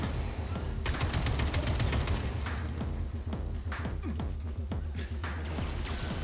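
Kalashnikov rifle fire in the video game Atomic Heart: rapid bursts of gunshots rattle over a dense, loud game soundscape with low rumbling and impacts.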